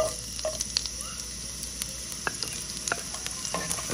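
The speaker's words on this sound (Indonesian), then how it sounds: "Gaul sampai bawang merah ni menjadi kekuningan sikit." Shallots stirred and frying in a pan with spices and soy sauce, a continuous sizzle with a few clinks and scrapes of the spatula throughout, close and without talk.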